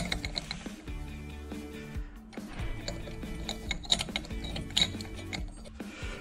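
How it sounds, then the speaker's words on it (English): A torque wrench tightens the light flywheel on a Predator 212 small engine, giving close, steady mechanical clicking and ratcheting with a few sharper clicks toward the end, with no voices. "Torque this flywheel down in one smooth motion."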